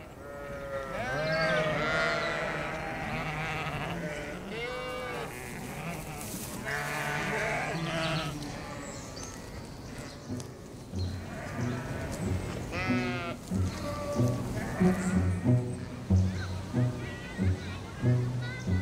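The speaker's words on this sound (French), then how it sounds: "nous avons aussi un troupeau de moutons" A flock of sheep grazing on the lawns of Munich's Englischer Garten, many overlapping bleats near and far, loud and wavering throughout, with a person speaking over them for much of the time.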